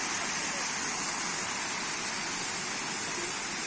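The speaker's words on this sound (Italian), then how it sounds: "Vediamo qui una cascata, guardate" Waterfall seen from above at a scenic viewpoint, a constant, dense broadband roar of falling water that stays even and fairly loud throughout, with no voices.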